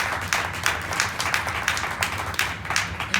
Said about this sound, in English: Please give Ms. Glover a round of applause